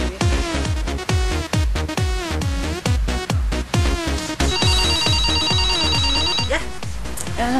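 A telephone rings continuously with a rapid repeating bell trill, loud and close, pulsing in steady bursts with no pause throughout.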